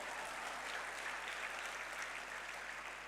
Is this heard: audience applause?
yes